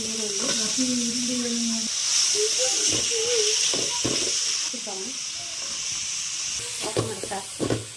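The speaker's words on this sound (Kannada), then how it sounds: "ಇದು ಗೋಲ್ಡನ್ ಫ್ರೈ ಬರೋವರೆಗೂ ಇಟ್ಕೋಬೇಕು. ಸ್ವಲ್ಪ ಫ್ರೈ ಮಾಡ್ಕೊಂಡು ಸಪ್ರೇಟ್ ಬೌಲಲ್ಲಿ ಹಾಕಿ ಇಡಬೇಕು" Cabbage Manchurian pieces fry in oil until golden, a continuous hiss and sizzle running under a person's speech.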